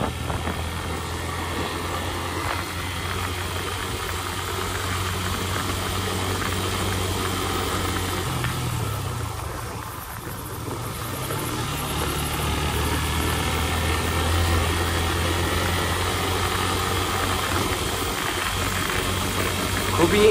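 Motorbike engine droning steadily while climbing a hilly mountain road from Bandarban to Thanchi, continuous low hum with wind noise, briefly dipping midway before resuming.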